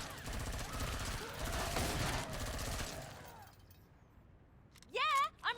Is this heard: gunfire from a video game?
yes